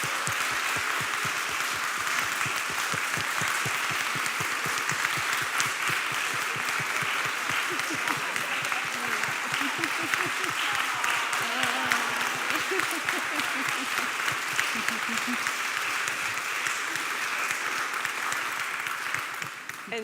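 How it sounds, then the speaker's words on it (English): A church congregation applauds steadily during a Sunday worship service, dense sustained clapping from many hands filling the room for the full stretch with faint voices underneath. "we applaud them."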